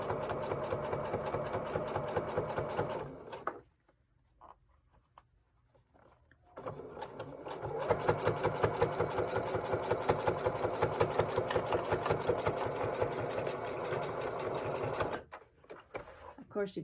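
A sewing machine stitches the enclosed seams of a fabric wallet in a steady close-up run, breaking off briefly for a few seconds before resuming its continuous rapid whirr.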